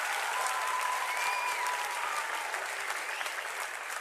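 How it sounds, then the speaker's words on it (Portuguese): A church congregation applauds, a dense, steady wash of many hands clapping at once that holds evenly throughout, with no voices standing out. "Uma salva de palmas para o Gustavo e para a Raquel"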